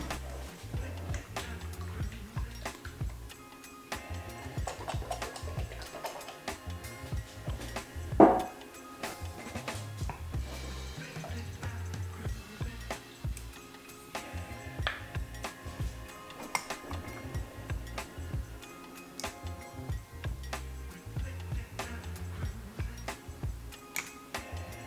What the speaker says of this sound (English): we got what I call the morning shakes, which is just shaking every infused oil and tincture in process